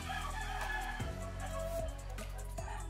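A loud, close rooster crow with strained, harmonic tones, held for several seconds, with other fowl sounds breaking in.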